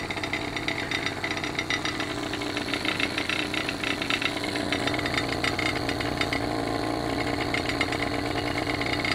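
A homemade steam engine on its first run under live steam, fed by a small boiler and spinning at roughly 1500 rpm, gives a loud, continuous, fast mechanical rattle and hiss that holds steady throughout.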